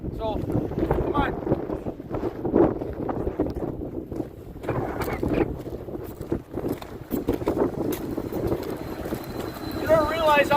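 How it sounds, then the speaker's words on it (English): Wind buffets the microphone outdoors on a cold, windy day beside a large locomotive, a steady, loud broadband rumble and roar that gusts throughout, with faint voices underneath. "we're gonna go in the cab because it's cold and windy out here"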